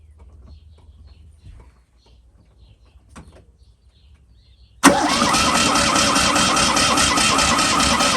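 A Fiat 126 Maluch cranks on its starter motor and catches, a sudden loud, dense engine roar bursting in after several seconds of near silence with faint handling noises, then running steadily to the end.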